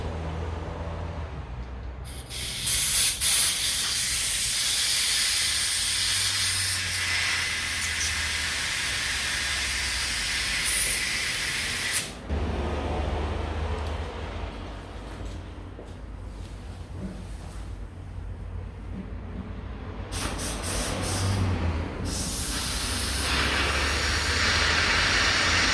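Compressed air blasts through the fuel line and filter of an HQ one-tonner, a loud, close broadband hiss in long bursts with short breaks between them and no speech.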